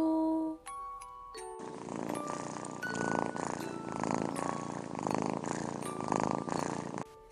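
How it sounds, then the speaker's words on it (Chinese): Several kittens purring together in a steady, close rumbling stream, opened by a brief bright chime-like tone before the purring takes over. "九只小猫呼噜噜"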